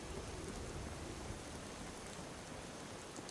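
Steady, dense rain hisses evenly throughout in the Fallout 4 video game, a constant wash of falling water with no pauses or talk.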